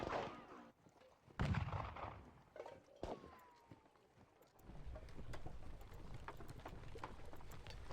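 Musket volleys crack out in a Napoleonic war video game, a sharp burst early on and another around the middle, then a steady rumble of distant firing and battle noise that fills the rest.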